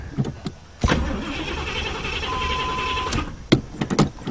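An old Chevrolet engine cranks briefly, fires and settles into a steady idle after its dried-out carburetor is refilled, then a few clanks and knocks follow near the car.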